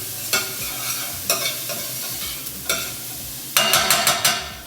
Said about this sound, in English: we are going to deglaze the pan